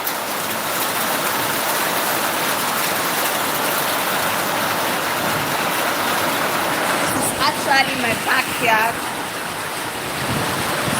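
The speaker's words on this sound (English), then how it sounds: "It's raining everywhere" Steady broadband rain hiss pours down across a backyard, continuous and close, with a person talking over it partway through.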